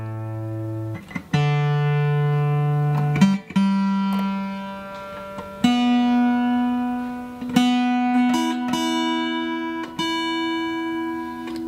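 A single steel guitar string plucked repeatedly, each note ringing out and sustaining, its pitch sagging slightly flat then drifting back between plucks.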